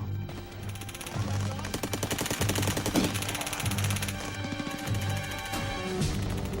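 Bursts of machine gun fire ring out from a rooftop position during urban street fighting in Fallujah, a steady stream of rapid shots carrying on throughout under a constant layer of background noise and music.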